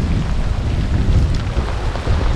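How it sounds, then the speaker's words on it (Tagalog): Heavy rain pelts down on open water during a fishing trip, a dense, rumbling downpour with wind buffeting the microphone, loud and unbroken with no talk. "Grabe kalakas ng ulan."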